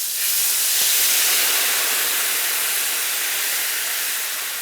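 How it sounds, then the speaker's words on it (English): White wine poured into a hot pan for chicken piccata gives a loud, steady steaming hiss that swells quickly and then slowly fades over several seconds, with no talking. "Now I put the wine."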